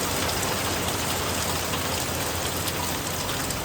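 Steady rain falls at a household in Gujarat, a dense, even hiss of drops spread across the whole clip without any talking.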